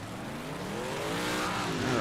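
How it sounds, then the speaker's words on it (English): Big block modified race cars doing burnouts on a track, a loud, continuous engine roar rising in pitch as the revs climb, with a gritty wash of tire noise throughout. "Burnouts."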